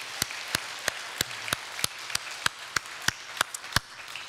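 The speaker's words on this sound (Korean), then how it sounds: "우리 하나님께 우리 한번 영광의 박수 올려드립시다." Steady, evenly spaced claps ring out in a church worship service, about a dozen sharp hand claps in a regular beat, close and distinct with no talking.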